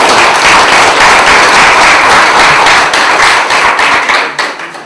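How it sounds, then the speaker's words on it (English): Dense applause from an audience at a community gathering for the Orealla Siparuta farmers group, a steady wash of many hands clapping close by that holds for several seconds before thinning out at the end. "I think we should clap for that."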